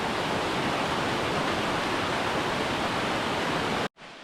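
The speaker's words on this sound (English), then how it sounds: "A gorgeous little chute of water that makes a magnificent sound" A small waterfall chute in a forest gives a steady, dense rush of falling water that fills the whole sound, close and unbroken until it cuts off abruptly near the end.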